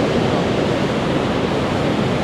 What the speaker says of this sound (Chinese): 就是瀑布公园，这么大水流